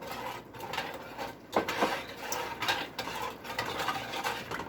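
A spoon stirs chili flakes into a brine sauce in a pot, giving faint scraping and a few light clinks against the metal, close and quiet with no voices.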